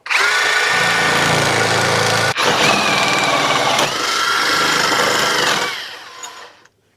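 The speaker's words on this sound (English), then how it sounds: "So I'm going to start notching this one now." Steel upright being notched for a 1955 Chevy truck frame built for 800 horsepower, a loud continuous power-tool grinding that runs steadily with a brief break, then winds down and fades near the end.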